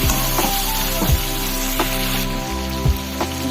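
Mutton pieces being fried down in oil for kosha crackle and sizzle loudly at close range, with sharp spattering pops scattered over a continuous frying hiss, no voices.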